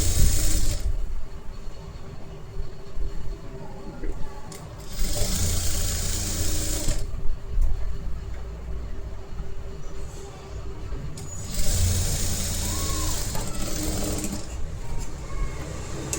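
A sewing machine stitching the edge of a princess-cut blouse in bursts, a rapid mechanical whir that starts and stops several times with quieter gaps between runs, up close.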